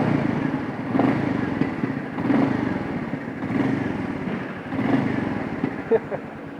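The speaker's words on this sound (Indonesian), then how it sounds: "kalian dengerin dulu nih suara mesinnya" A Royal Enfield Meteor 350 motorcycle idles nearby with a steady low thumping single-cylinder beat, rising in gentle swells of throttle roughly every second and a half.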